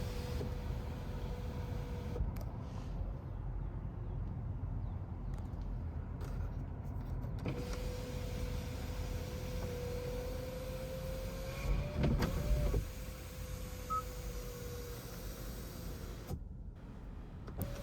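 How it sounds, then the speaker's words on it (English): A 2023 Kia Sportage SX Prestige panoramic sunroof motor whirs faintly in a quiet cabin, running in a steady drone for several seconds, pausing, then running again with a small clunk near the end. "This trim has a panoramic sun/moonroof, though it doesn't fully retract all the way."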